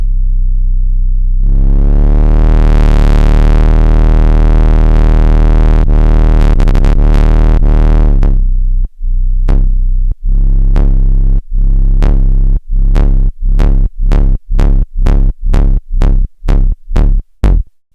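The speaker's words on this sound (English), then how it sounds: "If we turn the resonance down, it will generally start to feedback." Stylophone Gen X-2 synthesizer feeding back with the resonance lowered: a loud, sustained tone that sweeps upward and swells with harmonics, then breaks into a fast run of sharp, evenly repeating pulses.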